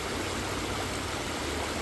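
Steady broadband rush of river water flowing, a continuous even wash with no breaks, close and fairly loud with no voices.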